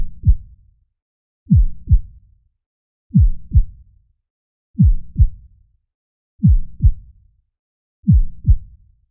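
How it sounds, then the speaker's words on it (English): Heartbeat, a loud, deep lub-dub pair repeating six times at an even, slow pace, each double thump clear and isolated against silence. "Your heartbeat."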